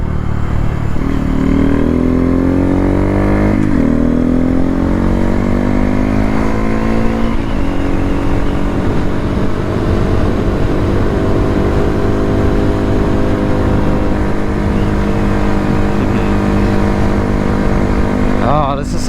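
A small mini motorcycle engine, a Honda Grom or Benelli, loud and close under a rider, with rising revs through several gear changes and some wind and road noise.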